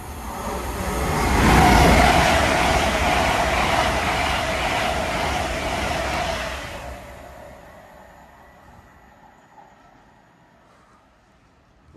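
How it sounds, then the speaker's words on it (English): A train rushes through Welwyn North station, loud and close for several seconds with a rolling roar, then fades away into quiet as it moves off. "the trains on that line don't hang about"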